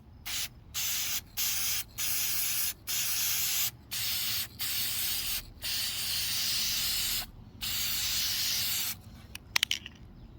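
Spray paint is applied to the kitchen floor of a metal dollhouse in a run of close, loud hissing bursts separated by short gaps, ending in a few rattling clicks.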